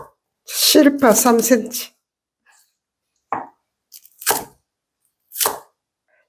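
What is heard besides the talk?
knife chopping radish and green onions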